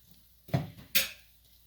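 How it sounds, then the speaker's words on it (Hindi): Spoon stirring tomato puree and ketchup in a bowl, two brief clinking scrapes close by, about half a second apart, in an otherwise quiet kitchen. "इन दोनों को मिक्स करते हैं।"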